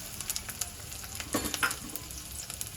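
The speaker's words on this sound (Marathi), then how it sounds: "तुपावर आपण एक मिरची आणि या लसूण पाकळ्या घालूया." Green chilli and garlic cloves frying in ghee in a pan, a continuous close crackling sizzle with occasional sharper pops and stirring touches, steady and moderately loud with no speech.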